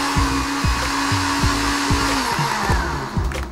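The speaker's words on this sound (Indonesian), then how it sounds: "ini kita blender sampai halus" Blender blending coconut milk and water, a loud steady motor whir with rhythmic pulsing changes in pitch as the contents churn, close up and alone without talk.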